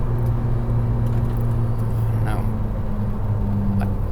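A Ferrari SF90 Stradale, a 986 hp all-wheel-drive hybrid road car, drones with a steady low engine note heard from inside the cabin, rumbling continuously beneath a voice talking over it.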